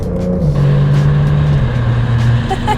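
A 2021 Porsche 911 Turbo Cabriolet (992) engine revs loudly and steadily in Sport Plus mode, its low drone climbing and holding, with exhaust rumble close by and no talking.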